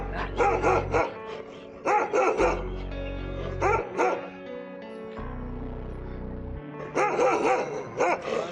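A dog barks loudly and close by in repeated bursts of several barks each, separated by short pauses.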